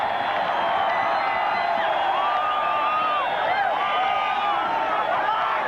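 A big crowd fills Parramatta Stadium at a schools rugby league cup final, a dense, steady roar of cheering and whooping voices heard from a distance with no clear individual speech.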